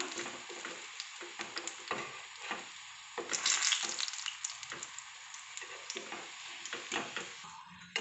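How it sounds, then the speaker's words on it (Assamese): Pumpkin flowers and leaves coated in gram flour batter fry quietly in hot oil, a soft continuous sizzle broken by faint ticking pops and light stirring. "ওপৰৰ বেচনখিনি অকণ মচমচীয়া হোৱালৈকে মই ভাজিম"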